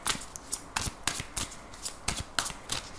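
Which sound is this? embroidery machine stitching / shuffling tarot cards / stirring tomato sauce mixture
shuffling tarot cards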